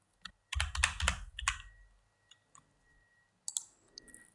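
Computer keyboard keys clatter in a quick burst of presses during an After Effects tutorial, followed by a few isolated clicks and a final short flurry, close and alone.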